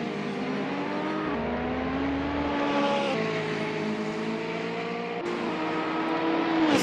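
Alfa race cars in a racing championship roar past on track, a loud continuous engine whine with gear changes and overlapping shifting pitches, one car after another.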